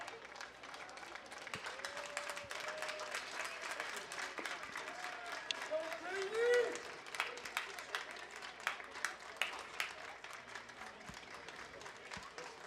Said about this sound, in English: We have a clapping rally going on here.